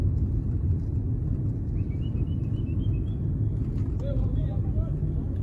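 Steady rumbling road traffic on Tom Mboya Street in downtown Nairobi, with vehicles bound for Machakos and faint bird chirps above the rumble while someone talks over it.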